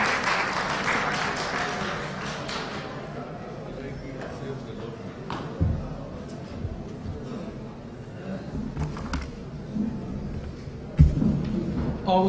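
An audience in a district assembly hall at a Saraiki Hindko conference claps to welcome a speaker to the stage, scattered applause spread across the room with a few louder thumps and faint voices underneath.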